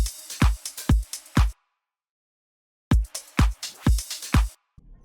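Electronic dance drum pattern of short punchy kicks layered with claps, a groovy hi-hat loop, a shaker loop and FX, played in two loud bursts separated by a couple of seconds of silence.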